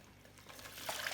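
Water pours and trickles into a home aquarium as wild betta fish are tipped in from their shipping bag, a soft splashing that swells toward the end.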